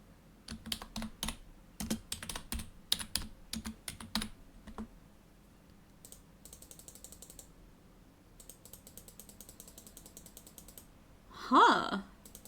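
Rapid clicking keystrokes on a computer keyboard, coming in quick bursts with short pauses between them, close and fairly quiet.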